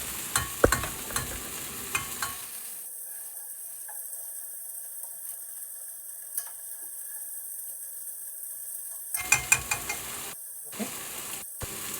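Mince frying with browned onions in a pan for cottage pie: a continuous close sizzle with a few clattering stirs, going thin and hissy through the middle before fuller bursts of stirring return.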